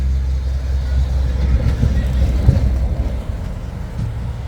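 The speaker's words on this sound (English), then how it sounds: "There's trucks everywhere." Truck passing in traffic: a loud, low, continuous rumble of heavy engines and road noise swells briefly and then settles, with no clear speech.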